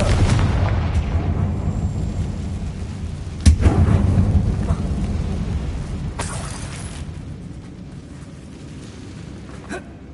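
A Confringo spell blasts in a Harry Potter video game, a deep rumbling explosion with a sharp crack partway through, then a long decaying roar.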